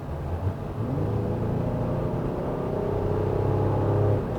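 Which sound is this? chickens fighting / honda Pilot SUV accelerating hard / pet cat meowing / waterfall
honda Pilot SUV accelerating hard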